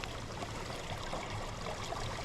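Water trickles steadily through a tiny wild brown trout creek, a close, even wash of flowing water with no talk over it.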